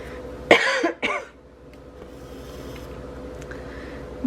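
Two sharp, close coughs in quick succession, followed by a quiet room with a low steady hum.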